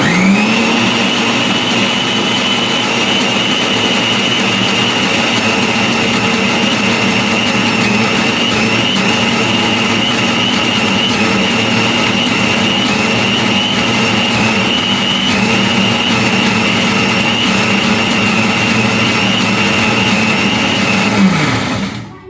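An electric blender runs steadily at full speed for about 22 seconds, a loud, constant high whir with a bright motor whine, then spins down abruptly at the very end.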